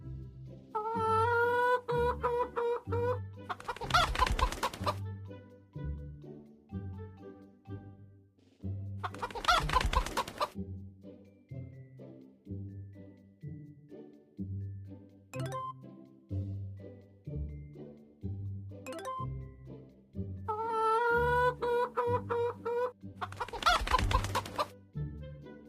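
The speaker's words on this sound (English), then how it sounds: "Tap on a chicken to pet it." Chickens in a children's learning game cluck and crow in repeated bursts over a steady looping tune, with the cheerful game music running continuously underneath.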